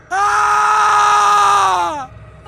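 A man lets out a long, loud, sustained scream of terror lasting about two seconds, from a horror story, heard close and alone before it cuts off.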